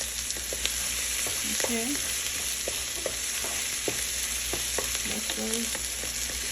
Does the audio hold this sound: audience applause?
no